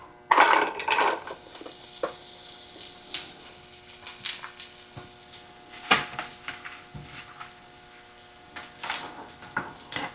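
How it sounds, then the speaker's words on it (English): Onions sautéing in two tablespoons of olive oil in a skillet give a gentle sizzle, with scattered clinks and scrapes of a utensil against the pan, close and fairly quiet, no talk. "So let me start by sautéing the onions."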